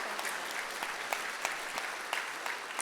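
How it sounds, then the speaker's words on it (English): Steady applause from a seated crowd at a building dedication dinner, dense continuous clapping at moderate distance with no voices over it. "Let's give Elizabeth another round of applause."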